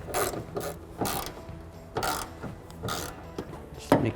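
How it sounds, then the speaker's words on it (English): Hand ratchet with a 13mm socket loosening bolts, steady repeated rasping clicks in roughly one-second strokes, close and clear, ending with a sharper knock, no talking. "It's a 13mm socket and a ratchet that I'm using."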